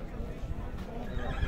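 A large mare at a horse market in Shymkent, Kazakhstan, neighs briefly amid a noisy, murmuring crowd, with voices and rumbling background sound throughout.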